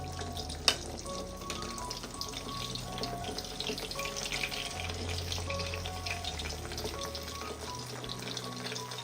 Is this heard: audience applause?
no